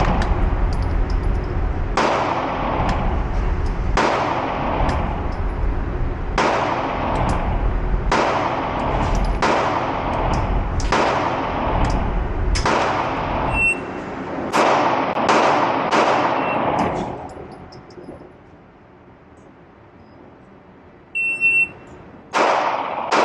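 Pistol shots from a CZ P09 Compact at a range, a dozen or so loud sharp reports at a steady pace with ringing decays, then a pause and one more shot near the end.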